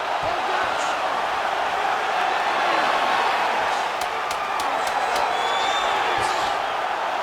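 A video game arena crowd for a UFC women's fight on PS5 roars steadily throughout, with whoops and a few sharp pops near the end, under and between commentary voices.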